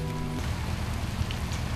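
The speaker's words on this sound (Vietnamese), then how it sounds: "Con thuyền chở những thân chàm đi trong màn mưa." Rain falls on a boat in a melaleuca forest in U Minh Ha, a steady, dense patter of drops on the surface. A brief low hum fades out at the start.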